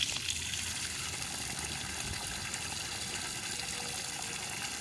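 Water gushing steadily under pressure from a borewell fitted with a newly installed submersible motor pump, a loud continuous broadband rush with no voices.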